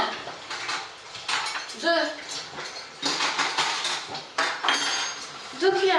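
Tablespoons clink and scrape against a bowl and baking tray while chocolate chip and goji cookie dough is portioned into small heaps, in short bursts under a voice talking throughout.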